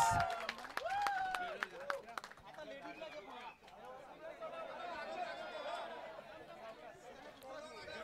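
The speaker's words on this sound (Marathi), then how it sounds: "जोरदार टाळ्या." Clapping for a team coach at a village cricket award ceremony, a crowd's brief applause mixed with chatter and a voice over a loudspeaker, fairly faint and blending into background murmur.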